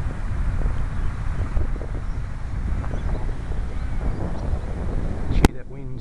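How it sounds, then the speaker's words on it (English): Strong outdoor wind buffets the microphone in a steady, loud rumble at a model Mustang P-51 flying field, continuing throughout and ending with a sharp knock. "That wind's just blown up."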